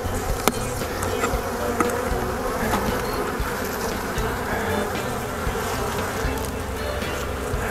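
Honey bees buzz steadily on a frame pulled from a hive, a dense close swarm drone holding throughout with a few faint knocks.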